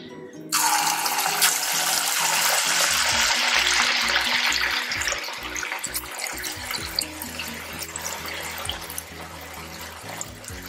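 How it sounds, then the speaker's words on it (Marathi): Vrat pakode, fasting fritters for an upvas recipe, deep-frying in hot oil over a medium gas flame: a loud, dense sizzle bursts in after half a second and carries on steadily, easing slightly toward the end, with no voices. "आता आपण गॅसची फ्लेम मीडियम ठेवून हे भजे आपण तळून घेणार आहोत।"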